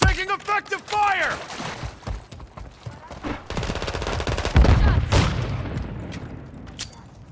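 Gunfire crackles through a Call of Duty Modern Warfare 3 multiplayer match: rapid automatic bursts and single shots with heavy booms, loud and close, and a radio voice calls out over the fighting.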